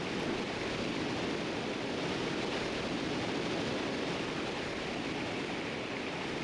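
A waterfall in the video game Tomba! 2 rushes as a dense, steady wash of broadband water noise, constant and moderately loud with no pauses and no talking.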